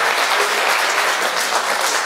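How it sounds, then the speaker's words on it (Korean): A crowd at a political forum's inaugural meeting in Seoul claps steadily and loudly, a dense, continuous patter of hands with no pauses. "박수 한번"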